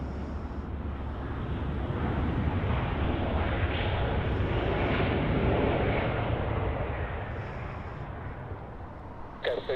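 A Delta Airlines jet arriving from Spokane lands at Los Angeles airport, its steady broadband engine roar building and holding for several seconds before fading slightly, heard alone from a moderate distance.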